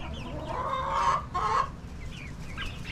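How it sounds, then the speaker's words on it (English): Chickens, including Brahmas, clucking and squawking nearby, a couple of louder bursts in the middle over a steady farmyard background of softer clucks. "The big chickens are moving over, scaring all the little ones out of the corner."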